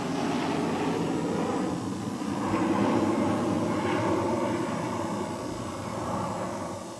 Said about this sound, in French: Je suis obligé de prendre l'avion.